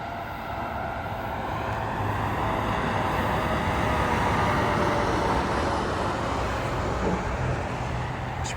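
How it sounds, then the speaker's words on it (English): Light highway traffic at night, with a steady broadband roar of tires and engines from vehicles passing at a distance, swelling slightly as occasional cars go by, with no voices. "enjoy the chill highway noise, which it's really died down. There's car comes through every once in a while"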